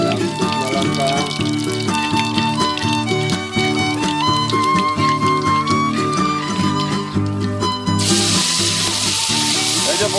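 Garlic and whole raw spices frying in a pan for a village meat dish, a sizzle that is partly masked by loud music and comes through as a strong hiss over the last couple of seconds.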